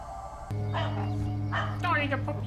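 A dog barks and yips in a TV drama playing over a steady low hum, with people talking around the barks.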